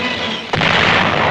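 A single sharp blast of gunfire in combat during the Battle of Okinawa, heard over a steady roar of background noise that continues after the shot.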